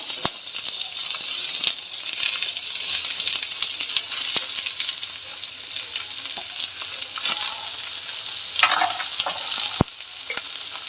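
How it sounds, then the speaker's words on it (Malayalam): Sliced onions, green chillies and garlic sizzle and hiss in a hot pan with a little salt, under a steady frying crackle with occasional scrapes and clinks of a spoon stirring. "സ്വല്പം ഉപ്പിട്ട് വൃത്തിയായി വഴറ്റാം."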